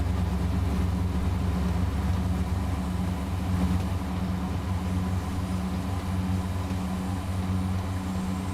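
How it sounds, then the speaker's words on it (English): A Class 142 Pacer diesel railcar in Train Sim World 6 runs along a rural branch line near Blackpool, its engine a steady, close, low drone that holds evenly throughout, with no voices. "So we're just driving the 142 Pacer along this nice rural route"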